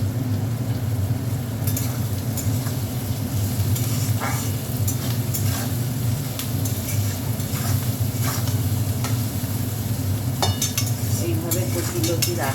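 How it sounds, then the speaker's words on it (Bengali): Chopped onions sizzle steadily in hot oil in a pan, salted to speed browning, while a spoon stirs and scrapes intermittently against the metal, close and continuous. "একটু নুন দিয়ে দেবো, তাহলে তাড়াতাড়ি পেঁয়াজটা ভাজা হয়ে যাবে।"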